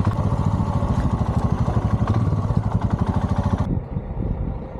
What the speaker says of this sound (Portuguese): Essa moto é da Índia, chama Royal Enfield.